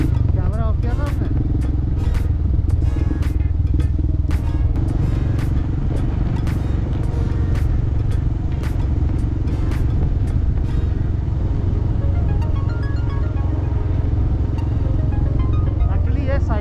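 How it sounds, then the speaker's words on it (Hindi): A motorcycle rides steadily along a mountain road on the way to Hemkund Sahib, its engine a loud continuous drone with wind rumble, while people talk over it. "इन नज़ारों में बाइक चलाते गए और चलाते गए"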